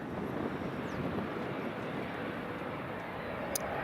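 Airliner landing at Edinburgh Airport, a broad, steady engine roar heard from a distance with some wind buffeting on the microphone, constant in level throughout.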